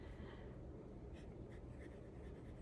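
A fine-nibbed jade-black fountain pen filled with Noodler's Heart of Darkness ink scratches across paper in a short test stroke, a soft, steady close-up scratching with faint rhythmic pulses and no talk.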